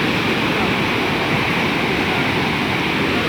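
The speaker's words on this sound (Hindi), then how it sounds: "ये देखें पानी का प्रेशर देखें।" Rushing water of a canal near Mustafabad roars steadily and loudly throughout, a dense, unbroken wash with no pauses.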